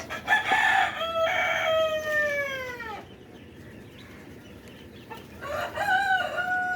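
Poultry on a farm with layer hens: a rooster crows clearly twice, with a quieter stretch of clucking and faint barnyard noise between the calls.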